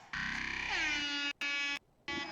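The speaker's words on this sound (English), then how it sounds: "Yes, more air horns." Loud, distorted air horn blasts from a music production session, one long blaring tone bending downward, then two short bursts separated by brief gaps, with no voices.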